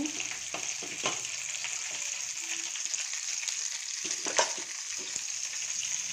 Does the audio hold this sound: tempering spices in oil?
yes